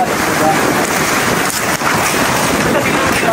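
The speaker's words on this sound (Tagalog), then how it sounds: "Lakas ng alon, no?" Strong ocean waves crash and surge continuously on a shore in Iloilo, a loud, dense roar of surf mixed with gusty wind buffeting the microphone.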